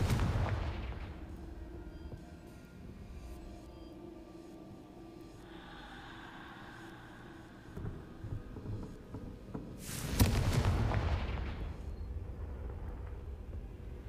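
Confringo spell blasts in Hogwarts Legacy: a heavy explosive boom at the start, a quieter stretch of rumbling ambience, then a second loud burst around ten seconds that trails off into a rolling low rumble, no talk.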